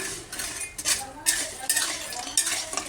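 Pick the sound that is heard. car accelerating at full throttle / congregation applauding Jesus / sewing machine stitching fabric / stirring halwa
stirring halwa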